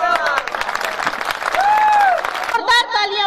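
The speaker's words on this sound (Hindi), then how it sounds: "जोरदार तालियां बजाइए।" An audience at a Hindi comic poetry gathering claps loudly, a brisk burst of applause mixed with crowd noise while a voice talks over it and a sustained tone rises in the middle.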